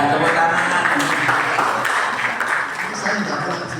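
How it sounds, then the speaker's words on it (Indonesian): A seated audience at a talk with two guests gives a short, even round of clapping, moderately loud and steady before easing slightly at the end. "Iya, tepuk tangan."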